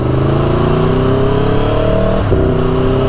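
A 2018 Aprilia Tuono motorcycle accelerating hard, its engine note rising loud and steady, then a quick dip and jump in pitch as the quickshifter clicks through a gear change mid-pull.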